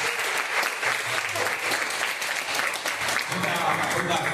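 An audience claps steadily throughout a board game presentation at a fan convention in Buenos Aires. The sustained applause from a large crowd fills the whole stretch, with a few voices mixed in underneath.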